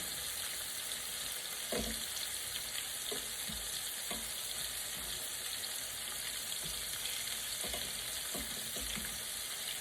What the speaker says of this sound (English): so you just fry them up